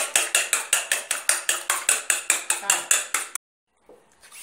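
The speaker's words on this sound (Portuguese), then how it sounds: "Quatro ovos. Eu vou dar uma leve batidinha." Four eggs lightly beaten in a bowl while making a banana cake, a quick run of about fifteen regular sharp taps, close and steady, that stop suddenly and leave near silence.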